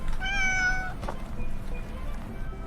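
A cat gives one clear, drawn-out meow at close range, followed by fainter rustling and small background noises, with no talk.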